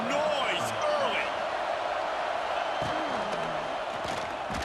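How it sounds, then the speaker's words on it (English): A football video game stadium crowd keeps up a dense, constant roar of noise, with a voice talking over it. "This crowd bringing the energy and noise early."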